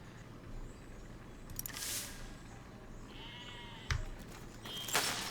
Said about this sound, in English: there's definitely some unhappy sheep now